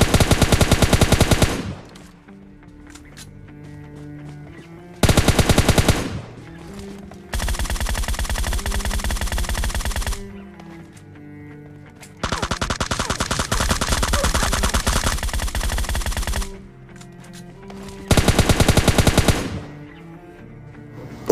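Gunfire in the mobile battle royale game PUBG Mobile Lite: loud rapid automatic bursts of machine-gun fire in several long volleys separated by short quieter gaps with background game sounds.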